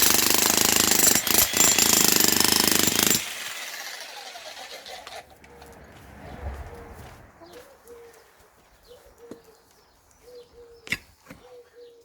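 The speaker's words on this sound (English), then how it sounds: "Cracking them up. It's cracking them up very nicely." An Einhell 15 kg 1600W 230V demolition hammer breaks up concrete in a loud, dense, continuous hammering burst for the first few seconds, then stops, leaving quieter scraping, rubble movement and scattered sharp knocks.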